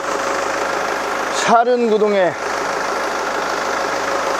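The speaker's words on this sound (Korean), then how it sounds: "엔진 소리 한번 들려드릴게요" A used four-wheel-drive SUV, single-owner, accident-free and undercoated, idles with a steady, close engine hum throughout, with someone speaking briefly over it midway.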